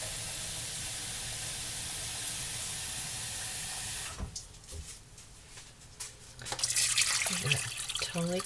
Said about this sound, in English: You want to cover everything with water.